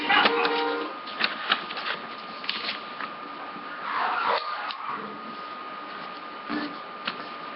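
Paper is folded and creased by hand into a paper airplane, making close, crisp rustles and sharp creasing swipes in irregular bursts.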